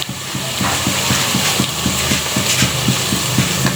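Washed chicken, about 1 kg, added to a pan of browned frying onions for Keej chicken curry, sizzling loudly and steadily with rhythmic stirring scrapes repeating through it, close and alone.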